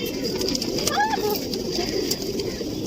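Small pigeons give a soft, brief coo over a steady background hum, close but faint, with no other clear calls around it.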